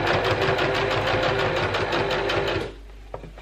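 Sewing machine back stitching a seam on a face mask: a loud, steady, rapid mechanical whirr of the needle running close by for over two seconds, then stopping abruptly, followed by a couple of small clicks.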